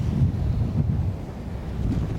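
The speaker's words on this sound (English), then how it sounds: "It is quite windy, so I don't know. Hopefully the mic's doesn't pick up that much wind" Wind buffets the microphone on a windy Sardinian beach, a steady low roar of gusts lasting the whole clip with no speech.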